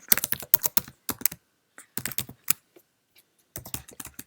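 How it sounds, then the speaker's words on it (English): Fast typing on a Mac keyboard, close and crisp, in quick bursts of key clicks separated by short pauses. "let's now go into the email and type DSCSV."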